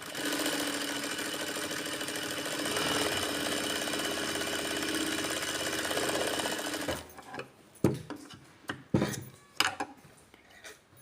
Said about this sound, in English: This is straight stitch.